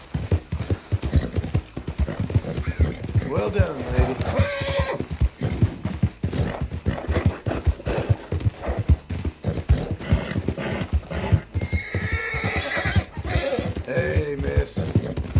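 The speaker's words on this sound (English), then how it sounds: "A good horse." Horse hooves gallop at a steady clip-clop rhythm on a ride in Red Dead Redemption 2, with an occasional whinny, close and continuous while someone speaks briefly over the hoofbeats.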